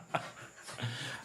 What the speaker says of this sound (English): Oh my gosh, my dogs.